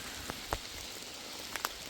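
Steady rain falls on a forest trail on an evening on private land north of Minnewaska State Park, a soft continuous hiss with a few distinct drops tapping close by.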